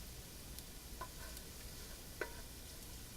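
Garlic toasts in hot oil in a pan for a rustic marinara, giving a soft, steady sizzle with a couple of faint stirring clicks.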